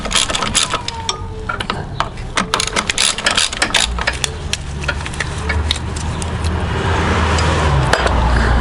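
Ratcheting and clicking of a wrench loosening 14 mm bolts on an Acura TL V6 engine mount, a series of sharp metallic clicks and rattles close by, followed by a rising steady mechanical whir.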